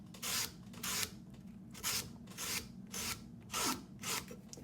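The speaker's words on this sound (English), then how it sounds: "I can use my little sanding stick that I've made." Wood is sanded with a homemade sanding stick in about eight steady back-and-forth rasping strokes, close and fairly quiet, with no talking.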